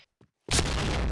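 A bomb goes off in the shooter game Point Blank: after a near-silent moment with a faint tick, a sudden loud, booming blast hits and rumbles on heavily to the end.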